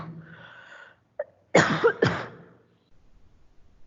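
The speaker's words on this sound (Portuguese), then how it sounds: "eu tenho fé que essa tosse vai embora." A couple of harsh, close coughs in quick succession, preceded by a short throat sound, then quiet.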